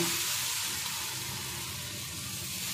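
A coconut and jaggery breakfast snack sizzles steadily on a hot tawa, a dense, even frying hiss that stays loud and close throughout with no talking.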